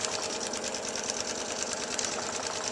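A sewing machine runs a back stitch in a steady, rapid mechanical chatter, close and continuous throughout with no pauses.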